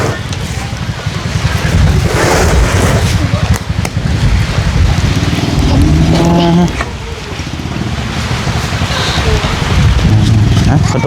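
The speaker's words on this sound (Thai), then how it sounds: "ฝนมาแล้วพี่น้องเอ้ย" Heavy rain pours down outdoors in rural Thailand, a loud, steady broadband hiss that holds throughout, with people talking over it now and then.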